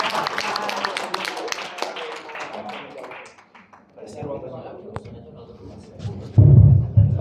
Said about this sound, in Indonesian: tepuk tangan lagi buat Pak Joseph